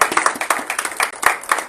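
Scattered, sparse clapping from a small church congregation at a Sunday service, uneven hand claps rather than full applause.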